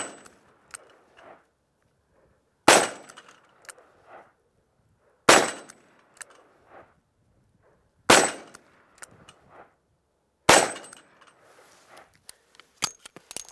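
Colt Python .357 Magnum revolver firing handloads at steel paddles, four loud sharp shots spaced a few seconds apart, each followed by a ringing metallic clang, with quieter handling clicks between them.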